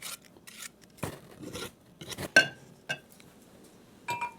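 A whisk is scraped clean of creamed sugar and butter against a mixing bowl, giving a string of short, close scrapes and light metallic clinks with quiet gaps between them and no talking.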